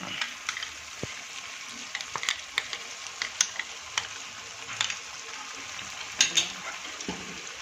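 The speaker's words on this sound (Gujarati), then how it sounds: "હવે આને આપણે સારી રીતે હલાવી લઈશું." Spiced yogurt stirred into a simmering whole-onion curry, Kathiyawadi style: a spoon scraping and clinking in the pan with soft sizzling, irregular taps and swishes throughout, no talking.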